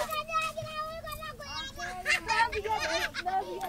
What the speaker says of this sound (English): So it's just some kids that are playing and laughing.